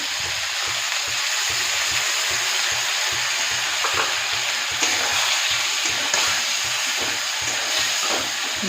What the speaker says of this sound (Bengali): এটা ভালো করে মশলাটাকে কষাতে হবে যতক্ষণ না তেল বেরিয়ে আসে